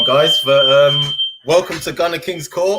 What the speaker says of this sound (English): my partner's triggered off the fire alarm